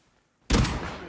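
Gunfire in the survival video game Rust: after a short silence, a loud, sudden burst of rapid shots erupts up close and rings on without any talking.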